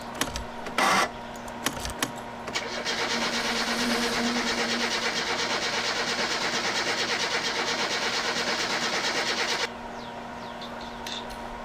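A car engine in the driving game My Summer Car cranks for about seven seconds without catching. The churning drone is loud and steady and starts after a few brief clunks, then cuts off, leaving a quieter background.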